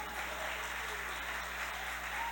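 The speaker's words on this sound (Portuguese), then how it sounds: "Vamos aplaudir a esse que já veio e que virá novamente." Congregation applauding in a church during a worship service, a steady dense wash of clapping with a low hum underneath, fairly faint and continuous with no voices over it.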